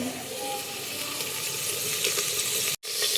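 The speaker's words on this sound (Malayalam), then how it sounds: "ആദ്യം നമ്മുടെ ചെറിയുള്ളിയും വെല്ലുള്ളിയും അല്ലേ രണ്ടും കൊടുത്തിട്ടുണ്ട്. ഇത് വഴറ്റി എടുക്കാം" Shallots and garlic sauté in a pan with a continuous close hiss of sizzling oil that holds steady throughout, cut by one brief silent gap near the end.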